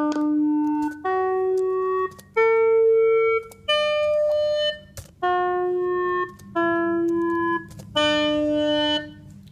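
A synthesizer plays a sequence of sustained notes, about eight in a row, each tone shifting in timbre as the waveform morphs from sawtooth to sine to square.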